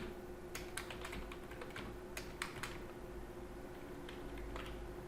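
Someone types a legal name from a national ID card into an account setup form on a computer keyboard, producing soft, irregular key clicks in short bursts over a low steady hum.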